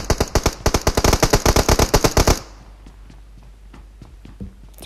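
Rapid automatic gunfire in PUBG Mobile, a fast string of loud, sharp shots for over two seconds, followed by quieter scattered sounds and faint distant shots.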